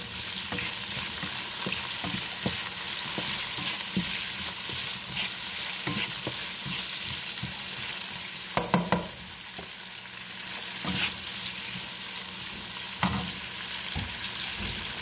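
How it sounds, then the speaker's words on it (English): Ingredients sauté in a pan as the base for a seaweed and bottle gourd fish soup, a steady close sizzle with stirring scrapes and a brief cluster of sharp utensil knocks partway through. "we're gonna saute this for a minute"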